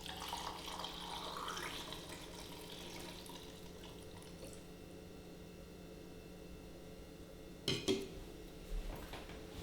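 Fixer is poured into a film developing tank while processing Ilford black-and-white film at home, making a steady liquid rush that fades, followed by a brief plastic or metal clunk near the end.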